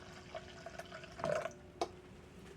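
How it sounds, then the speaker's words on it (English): Vinegar splashes and trickles from a jug into a bowl of quick garden pickles in a home kitchen, a few faint liquid pours and drips close by with no talking. "So I'm just going to splash me in some, probably"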